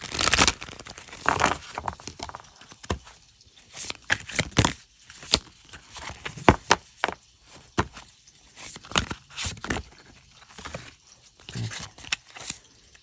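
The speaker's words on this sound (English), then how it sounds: "I can't even shuffle these cards." Cards riffle and crinkle in short, uneven bursts with pauses between attempts, close and moderately loud, no talking.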